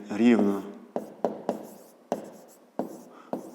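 Pen or pencil strokes scratch across paper in short separate bursts, about seven quick strokes close up, following a brief spoken word at the start.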